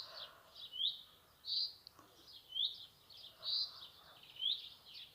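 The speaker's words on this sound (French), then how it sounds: "Écoutez les oiseaux." Birds call from a quiet garden: repeated short chirping phrases come every second or so, fairly faint, over a soft hushed background.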